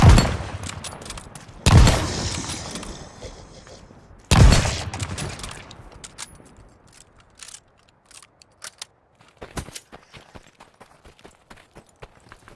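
Gunfire in the video game Call of Duty: Vanguard, with loud rapid bursts of shots early on, then sparser scattered shots and impacts fading out, with in-game voices at times.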